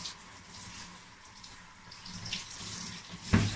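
Tap water runs steadily as hair is wetted, a soft rushing flow with a louder splash near the end.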